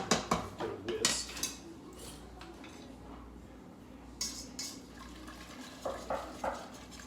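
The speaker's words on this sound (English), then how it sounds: "So just run a whisk through" A whisk stirs flour into a sauce in a pan, making faint, intermittent metallic clinks and scrapes in short bursts against quiet background noise.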